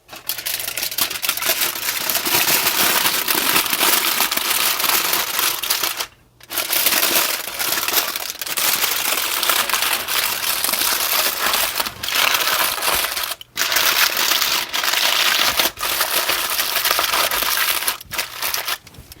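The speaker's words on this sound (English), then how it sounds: "I'm going to fold up the foil into a nice little foil package." Loud, continuous crinkling and crushing of aluminum foil as it is folded into a packet around a trout fillet, with a few brief pauses between handlings.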